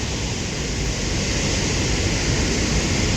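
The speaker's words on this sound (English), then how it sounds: "That's the Allegheny River" The Allegheny River in Pennsylvania's Allegheny National Forest rushes past as a dense, steady roar of flowing water, loud and continuous with no voices.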